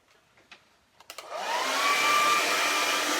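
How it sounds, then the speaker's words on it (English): A few soft clicks and knocks, then a hair dryer switches on to dry acrylic paint, blowing steadily with a loud, even whoosh and a faint high whine. "I'll dry it now. Have a hairdryer."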